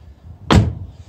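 The passenger door of an MG ZS car swinging shut with a single solid, muffled thud, heard alone against quiet surroundings.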